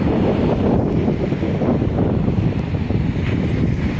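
Wind gusting across the microphone on a beach at Bang Saray, Sattahip, Chonburi, a loud continuous rumble with faint surf underneath and no voices.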